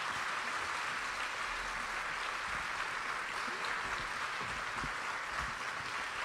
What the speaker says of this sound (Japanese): 大きな拍手でお知らせください。